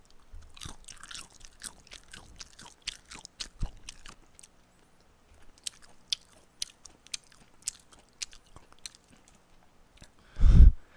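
Crunchy pepperoni pizza dipped in garlic sauce is bitten and chewed close up, a run of crisp crackling crunches that thin to scattered chews, ending with a louder rustling burst.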